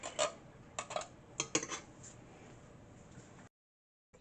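A metal can of refried beans is being crushed open in a kitchen while tacos are made, giving a quick run of sharp metallic clanks and scrapes, then soft rattles that end in sudden silence.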